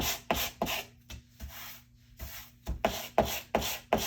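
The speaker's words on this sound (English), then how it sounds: "I'm gonna go get my little sanding block. We're gonna sand it a little bit." A small sanding block rubs across scrapbook paper in quick repeated back-and-forth strokes, close and crisp, around ten rasping passes with brief pauses between them.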